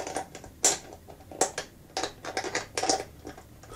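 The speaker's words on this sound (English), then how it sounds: "Always use your closed-end wrench." A closed-end wrench turning a bolt while installing volume controls: a series of close, sharp metallic clicks and ratcheting ticks in uneven bursts.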